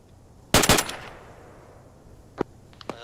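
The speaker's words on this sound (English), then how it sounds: "Ghost Rider's done a little strafing run." A short, loud burst of rapid gunfire from an aircraft strafing run in a military video game, followed by a fading rumble and two distant single shots.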